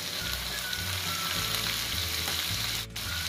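Chili sauce and squid soy sauce hit hot oil for a Thai-style chicken dish, producing a steady, loud crackling sizzle that continues throughout with no talking.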